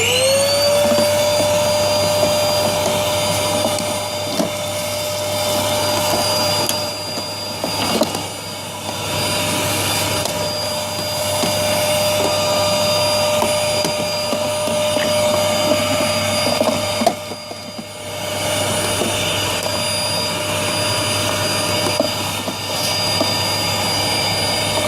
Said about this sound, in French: Donc un petit coup d'aspi.